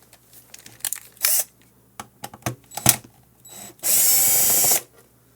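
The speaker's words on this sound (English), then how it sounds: "first we have to open these 4 screws" Small screws being unscrewed from a ClearCom V-Series intercom panel, heard as scattered close ticks, clicks and a few short whirring bursts of a driver, with two longer buzzing runs, in an otherwise quiet room.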